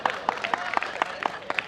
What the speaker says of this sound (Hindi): अगर उसका अगला जवाब अच्छा लगे तो ताली बजाना